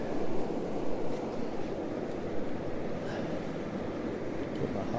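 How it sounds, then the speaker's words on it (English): Strong wind blowing at the seashore at Currumbin, Queensland, a steady broadband roar of gusts and microphone buffeting with surf mixed in, loud and continuous, no talking. "Wow, that wind. It's windy."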